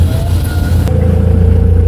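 A vehicle drives past nearby with a steady low engine rumble and a brief swell near the start, then settles into a continuous drone with no talk.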